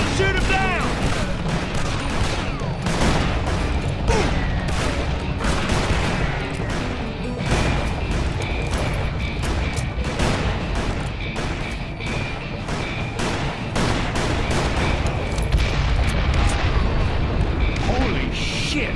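In the Wild West shooter game Call of Juarez: Bound in Blood, dense gunfire rattles nonstop in loud overlapping volleys, with crashes and booms mixed in and shouting voices buried in the din.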